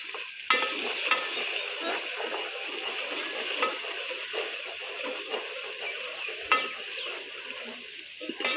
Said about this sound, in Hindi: मसाले को थोड़ी देर के लिए भून लेना है।